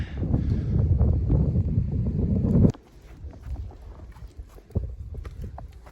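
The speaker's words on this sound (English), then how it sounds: "It's getting windy up here. The wind chill is definitely picking up" Loud wind roaring across the microphone on a snowy winter mountain trail at Bear Mountain, New York, then abruptly dropping to a quieter, gusty background with occasional buffeting thumps.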